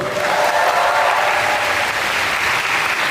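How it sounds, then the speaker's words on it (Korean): Sustained audience applause at an outdoor musical concert in the breeze, with dense, steady clapping from a large crowd filling the whole stretch at a loud, even level. "인정하시면 박수 한번 주세요"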